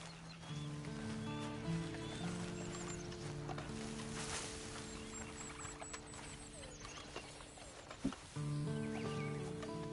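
Horse in Red Dead Redemption Online, with faint hoof clopping and shuffling under a long, tonal whinny that fades and returns, plus a sharp knock near the end.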